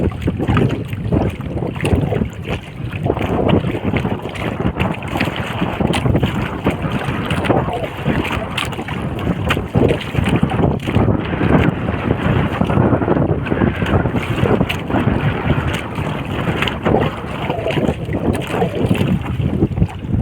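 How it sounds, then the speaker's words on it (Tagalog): Strong wind at sea roars steadily into the microphone for the whole stretch, a dense buffeting rush with water and boat noise beneath it. "Siguro maririnig dyan yung hangin, yung ingay ng hangin."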